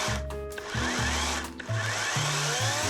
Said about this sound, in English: pull the trigger to turn on the chainsaw